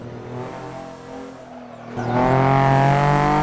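A Toyota Celica GT4 in Assetto Corsa holds a steady engine drone through a corner, then revs up loudly as it accelerates, with faint tire noise underneath.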